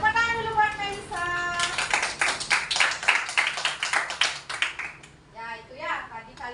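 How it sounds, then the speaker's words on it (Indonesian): A class of children claps for a classmate in a schoolroom, a quick burst of rapid hand claps that runs for a few seconds, with voices speaking just before and after. "Tepuk tangan dulu buat Melisa"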